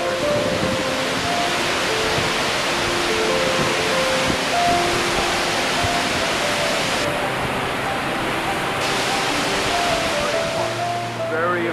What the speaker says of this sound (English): Very rough water.